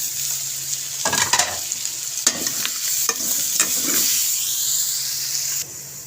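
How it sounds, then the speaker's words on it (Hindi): Four chopped medium tomatoes hit a karela gosht pan, bursts of sizzling and stirring scrapes breaking over a softer steady hiss, with a sharp rising sizzle in the middle fading to quieter frying. "और साथ ही हम कटे हुए 4 मीडियम साइज़ के टमाटर इसमें ऐड कर देंगे।"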